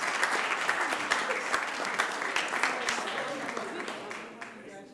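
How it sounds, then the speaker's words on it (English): A crowd at a city council meeting applauds, with sustained dense clapping that holds steady for several seconds, then gradually tapers off. "let's give them another round of applause."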